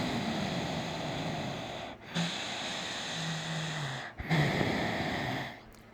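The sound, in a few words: breathing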